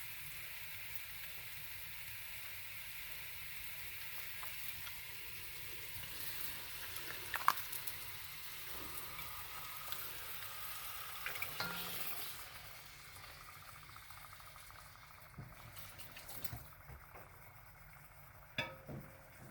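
Goat meat drops into a pot for curry and fries with a soft, steady sizzle, broken by occasional clinks and scrapes of a spoon against the pan, fairly faint overall.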